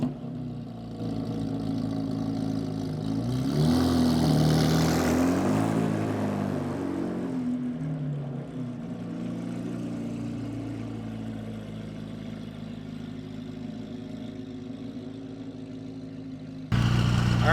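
Race cars fitted with WIKD Racing exhausts fire up and rumble, a deep engine roar swelling loudly for a few seconds then settling into a steady, throaty idle nearby with no speech.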